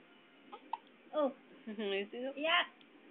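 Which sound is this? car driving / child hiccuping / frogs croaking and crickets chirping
child hiccuping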